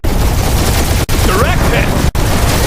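Sustained gunfire in the Guardians of the Galaxy video game, a loud continuous barrage interrupted by two brief cutoffs, with explosions and a rising whistle-like tone layered into the dense battle noise.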